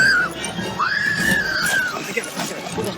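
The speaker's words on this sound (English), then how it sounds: "she of course screams a lot." A damsel in an old dinosaur movie lets out shrill, drawn-out screams: a short cry, then a longer wavering one, against a faint background murmur.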